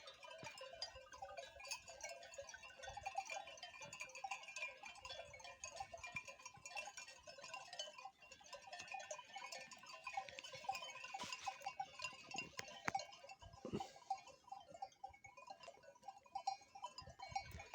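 Bleating from a sheep, two lambs and a goat kid, repeated and overlapping at a moderate distance, with a steady outdoor background and a few sharp knocks.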